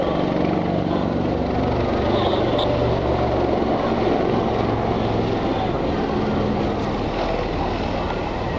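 Royal Navy aircraft in a close formation display pass overhead at over 220 miles an hour, a loud, continuous engine and propeller roar that holds steady throughout.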